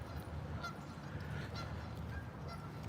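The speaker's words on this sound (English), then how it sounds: "Can you hear the Canada geese?" Canada geese honking outdoors on a Sunday morning walk, several nasal calls rising over a steady low rumble of ambient noise, moderately distant and with no talking.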